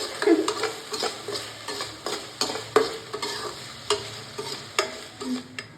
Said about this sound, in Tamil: நல்லா வந்து வதக்கிட்டே இருக்கணும்